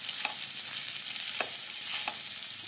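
A spoon scrapes through sabudana khichdi with coarsely ground roasted peanuts in a pan, soft sizzling over a steady hiss, with a few distinct scraping strokes, close and without talking.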